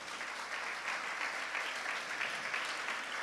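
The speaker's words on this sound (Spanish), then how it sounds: "Démosle un fuerte aplauso a todos estos papás que están aquí." A church congregation applauds the fathers standing at the front during a Spanish-language service, a steady, dense clapping that holds at an even level for the whole stretch.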